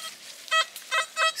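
Three short metal detector beeps signaling a coin, with bright, stacked tones, evenly spaced over about a second, close and clear against a quiet background.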